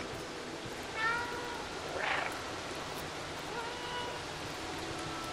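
A cat meows in the video game Stray, two short meows about a second apart over a steady background hiss of ambient game sound.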